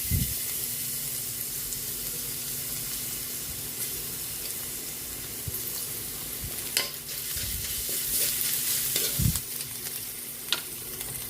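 Garlic sautéing in a small amount of cooking oil for Filipino ginisang munggo, a steady soft sizzle with occasional stirring clatters of a utensil against the pan.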